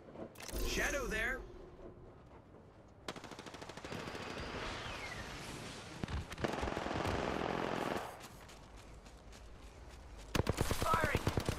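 Apex Legends gunfire rings out in bursts of rapid automatic shots. Dense rattling stretches are broken by quieter gaps and closing volleys, and game voice lines play in between.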